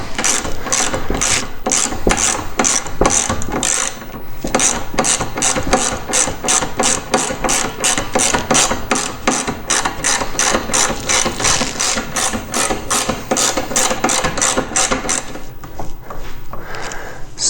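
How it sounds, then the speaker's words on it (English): A power driver sinks self-tapping screws into a Zbroz Racing front bumper on a Polaris RMK AXYS/Khaos snowmobile, producing a loud, rapid ratcheting clatter that runs steadily for most of the time before stopping near the end, with no talk. "it's going to create its own threads as you screw it in"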